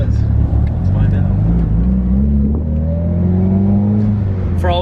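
A Mitsubishi Evo 8 fitted with a big turbo accelerates hard from a rolling start, the engine note climbing steadily in pitch for a few seconds under a constant road roar, with voices faintly present.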